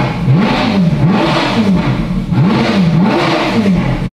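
An old Ferrari V8, a former rental car under restoration, revs loudly and up close, its pitch rising and falling in repeated swells with no talk over it.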